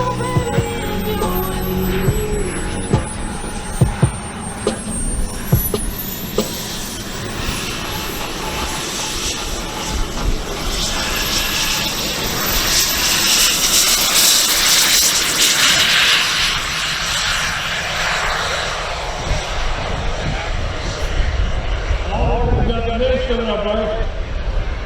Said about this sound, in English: So they're getting the MiGs ready to go, and we'll watch the two brothers flying the airplanes right behind us.